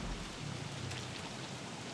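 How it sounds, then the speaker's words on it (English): Rain falls steadily in the video game Don't Starve Together, a soft, even hiss throughout with no talking. "And it's raining."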